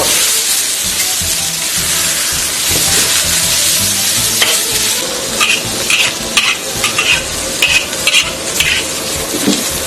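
Pickled mustard greens stir-fried in a wok for a braised fish dish: steady sizzling and hissing throughout, with a run of sharp, rhythmic scraping and clattering strokes in the second half.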